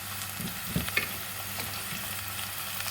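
Shallots sizzling in hot oil as they are stirred in a pan for a beef dry roast, a steady frying hiss with a few soft scrapes of the spoon near the start, close and quiet, no talking.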